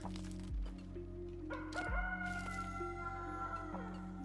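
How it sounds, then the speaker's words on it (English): A rooster crows cock-a-doodle-doo twice in quick succession, clear and fairly near, over a steady droning electronic background of sustained tones. "I heard a rooster."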